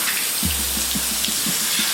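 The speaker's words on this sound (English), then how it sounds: "we gotta use the garden hose" Garden hose spraying water onto rusted cast iron parts, a steady broadband hiss of spray running throughout with a low rumble and faint rhythmic pattering underneath.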